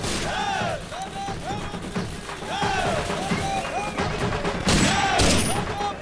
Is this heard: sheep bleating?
no